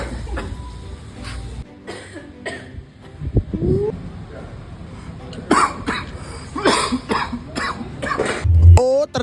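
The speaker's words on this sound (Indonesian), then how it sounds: "ini penyebab semua pada batuk-batuk dan bersin-bersin akibat dari sambal gongso maut" Several people cough, sneeze and clear their throats from the sharp fumes of spicy sambal gongso being stir-fried, with bursts of coughing scattered throughout amid background chatter and a close sneeze near the end.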